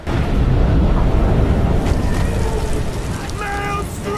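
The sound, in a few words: rain and strong wind storm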